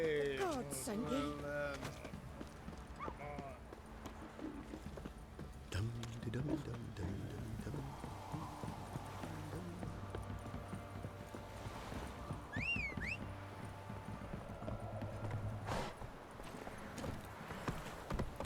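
Horse hooves clip-clop in The Witcher 3, giving a moderate rhythmic beat under character dialogue and ambient game sound, with a brief whinny early on.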